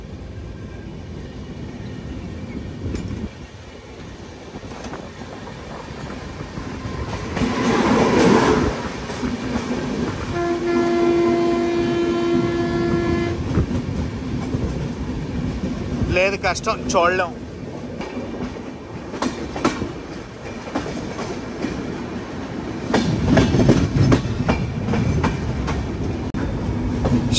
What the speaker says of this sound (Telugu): అటువైపు నుంచి ఏదో ట్రైన్ వస్తుంది